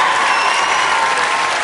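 Dense, steady applause from a studio audience at a televised music talent show with a big band, loud and continuous throughout with no voices on top.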